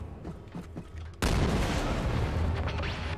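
In Wolfenstein 2: The New Colossus on Nintendo Switch, quiet game action gives way to a sudden loud grenade blast followed by a sustained roar of explosions and gunfire.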